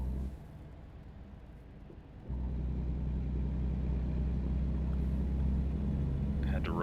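A truck engine in American Truck Simulator, a low steady rumble that drops briefly and then returns fuller and louder as the vehicle pulls around a turn, with someone talking over it.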